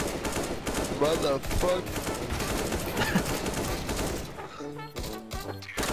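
AK rifle gunfire in Counter-Strike: Global Offensive crackles in dense, rapid bursts through most of the stretch, loud and close, with a voice shouting over the shooting and a few musical tones near the end.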